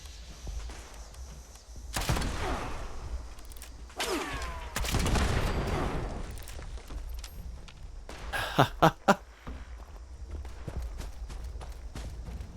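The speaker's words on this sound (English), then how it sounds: "Where's this guy shooting from me?" Gunfire in the video game Fallout 76, a few scattered shots and a quick burst of three sharp reports amid footsteps and movement noise, moderately loud over a steady game ambience.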